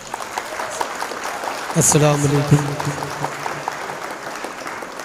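Audience at an Urdu poetry gathering applauding to welcome a poet: a steady wash of clapping throughout, with a man's spoken greeting briefly rising over it near the middle.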